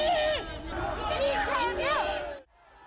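About 200 political supporters gathered outside a prosecutors' office cheer loudly in unison, their massed voices rising and falling for a couple of seconds before cutting off abruptly.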